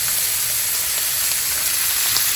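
Food sizzling in a pan, a dense, steady hiss and crackle at close range with no talking.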